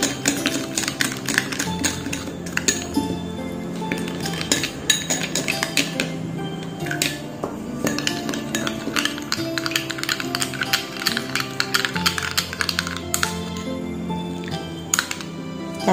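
Orange peel juice is stirred into a homemade vitamin C serum, with rapid, irregular clinks and taps of a utensil against a small container running throughout, close and fairly loud over a constant tonal background.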